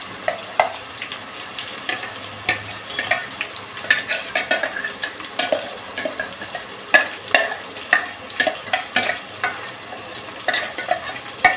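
Spice paste for chicken pulao fries in a pan with a steady sizzle, broken by frequent scraping stirs with a utensil in a loose, uneven rhythm. Close and clear, with no talking.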